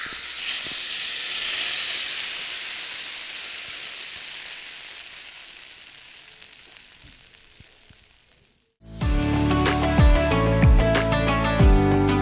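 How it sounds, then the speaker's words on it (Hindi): Whole red chillies and cumin, browned in hot fat as a tempering, are poured into kadhi pakora, making a loud, steady sizzle that fades slowly over eight seconds before music begins. "अब हम कड़ी पकोड़े को तड़का लगाएंगे।"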